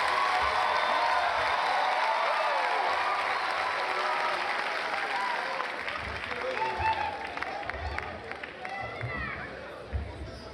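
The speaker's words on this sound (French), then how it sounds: "Sous vos applaudissements, s'il vous plaît." Audience at a state decoration ceremony in Brazzaville applauding, dense sustained clapping from a large crowd that gradually thins out while faint voices and murmurs rise underneath.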